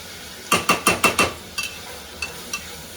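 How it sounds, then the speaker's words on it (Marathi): A spoon clacks against a large pot of khichdi in a quick run of five strokes, then a few sparse, lighter scrapes and taps, close and fairly crisp. "दीदींना मध्ये मध्ये थोडीशी मदत म्हणून मी खिचडी तेवढी हलवायचं काम करते"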